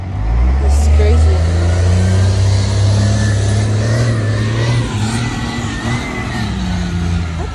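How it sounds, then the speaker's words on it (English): A truck accelerates along a street with a heavy, close, low engine roar that swells and holds for several seconds, dominating the outdoor background. "That truck really trying to speed up."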